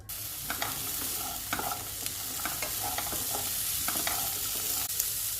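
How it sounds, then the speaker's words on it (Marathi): Beans sizzle steadily in a hot pan while a spatula scrapes and stirs at irregular intervals, close and fairly loud. "फक्त आपण थोडंसं फ्राय करून घेऊयात हे बीन्स"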